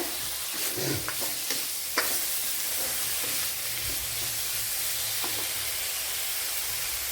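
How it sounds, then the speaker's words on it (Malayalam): Onions sauté in a pan with a constant sizzle, punctuated early by a few light stirring scrapes and taps before settling into a steady frying hiss. "അപ്പോഴിവിടെ സവാളയൊക്കെ നല്ലതുപോലെ വഴണ്ട് വന്നിട്ടുണ്ട്"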